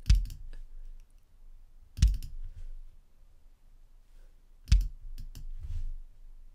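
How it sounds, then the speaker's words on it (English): Computer mouse double clicking in a music production session, three sharp double clicks spaced about two seconds apart, close and crisp against a quiet room. "I can just start double clicking on the beats."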